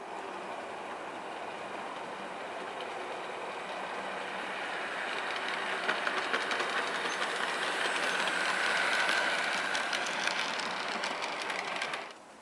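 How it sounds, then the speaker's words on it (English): Model trains hauling nuclear flask wagons run on a layout with a steady close rattling clatter that gradually grows louder, with rhythmic clicking of wheels on track and no talking. "seeing these running on the layout for mostly nuclear flash trains"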